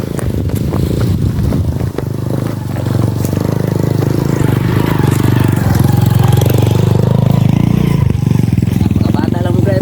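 Motorcycle engine running steadily nearby in an outdoor rural setting, a continuous low rumble with slight revving throughout, heard under people talking.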